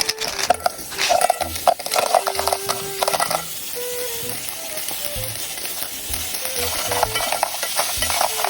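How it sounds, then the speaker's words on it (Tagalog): Onion, garlic and ginger sizzle and crackle in a hot pot, stirred with scraping utensil strokes and clinks, a steady close frying hiss throughout. "nagisa rin ako dito ng sibuyas, bawang, tsaka luya"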